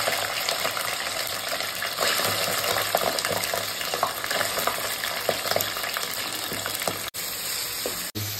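Chicken liver frying in hot oil with curry leaves and chili gives a loud, steady, crackling sizzle with occasional stirring scrapes, close up and continuous, with no voices.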